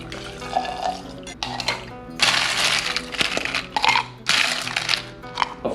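Rum being poured for a mojito at a bar, with liquid splashing and glassware and ice clinking in bursts over about six seconds, fairly loud and close, with no talking.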